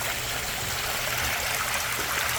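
An above ground pool fountain pours a steady, close stream of water into the pool, a constant splashing trickle with no talking.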